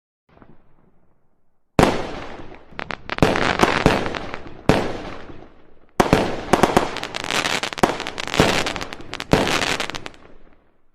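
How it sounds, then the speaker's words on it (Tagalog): Fireworks go off in a rapid series of loud bangs and crackling bursts after a faint opening rumble, the explosions coming in irregular clusters with short crackling tails. "Fireworks."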